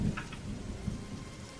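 Rain falling in a video game, a soft continuous wash of patter with a low rumble underneath, fairly faint and steady.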